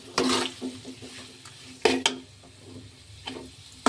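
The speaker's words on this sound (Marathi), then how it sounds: "याला आपण छान हलवून घेऊ" Potato chutney with chilies being stirred and crushed with a slotted spoon in a pan, a few sharp scrapes and knocks over a light background sizzle, close up.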